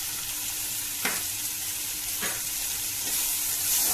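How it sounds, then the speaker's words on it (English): Vegetables seasoned with salt and pepper are stir-fried for Hakka noodles, giving a continuous close sizzle with a few sharp scrapes of a spatula tossing them in the hot pan, with no voices. "Stir fry them."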